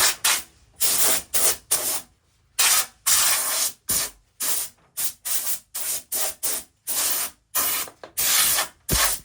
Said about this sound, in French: parce que là c'est juste un coup de soufflette